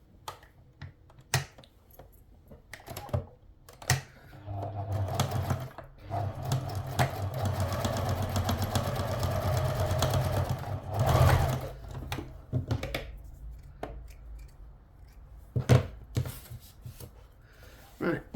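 Domestic sewing machine joining the slanted back seams of a cloche hat lining, heard in short bursts of rapid needle clatter that build into a sustained run of several seconds mid-clip, then broken into a few brief stitches amid handling clicks.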